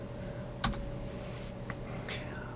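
Computer keyboard typing, quiet and close, with a few sparse key clicks over a low steady background hum.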